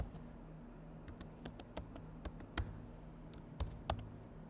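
Close, quiet keystrokes tapping on a computer keyboard while text is entered into a hotel website's contact page, irregular clicks in short bursts with a low hum underneath.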